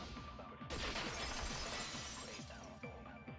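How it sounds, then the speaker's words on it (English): A loud, dense shatter effect from the game Danganronpa 2 bursts in suddenly after a quiet start, then becomes a long wash of crashing, tinkling debris that slowly thins out. "At the entrance hall, the girls heard the sound of the window shatter."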